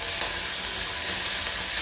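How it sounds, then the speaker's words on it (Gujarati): Finely chopped onion sizzles in hot oil as a tempering for a Kathiyawadi urad dal, a steady, close, hissing fry with light stirring and no voices. "ડુંગળીથી આપણે વઘાર કરીશું."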